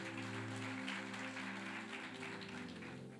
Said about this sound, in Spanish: Dele un aplauso al Señor y póngase de pie.